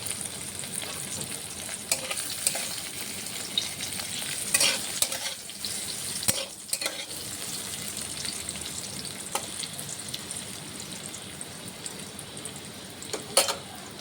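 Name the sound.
potatoes frying and being stirred in oil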